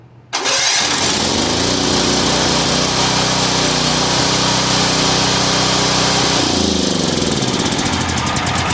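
A cheap 7000 watt generator engine cranks on full choke, catches and then runs at a loud, steady drone with a throbbing low hum for several seconds.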